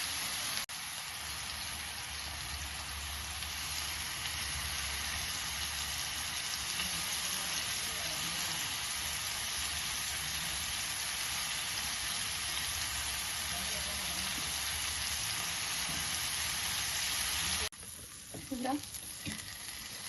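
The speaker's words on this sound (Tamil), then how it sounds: "இந்த மாதிரி ஷாலோ ஃப்ரை பண்ணிக்கோங்க" Chicken pieces shallow-fry in oil in a pan for butter chicken masala, a loud, continuous crackling sizzle held close throughout, then a brief scrape and stir near the end.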